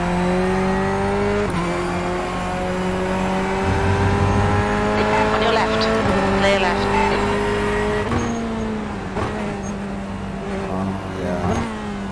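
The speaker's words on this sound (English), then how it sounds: "Okay, Brandon, it's a faster class car approaching." Race car approaching in the iRacing sim game: a steady engine drone with shifting pitch, gear changes and a faster car closing in, under a continuous mechanical roar.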